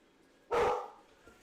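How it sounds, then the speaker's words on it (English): A single short dog bark sounds at a distance in a quiet room, one sharp burst followed by a faint softer echo. "The dogs are barking."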